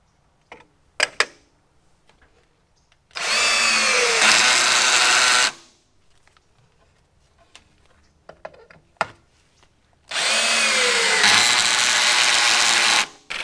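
An electric shear cuts a spare piece of 0.090-inch aluminum sheet in a workshop, making two loud, buzzing bursts of about two and a half and three seconds, separated by quiet clicks and handling noises.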